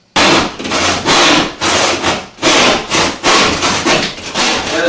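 A Stanley shark tooth hand saw cutting Durock cement backer board for steam room wall prep, rough rasping strokes in a steady back-and-forth rhythm, loud and close, with no talking.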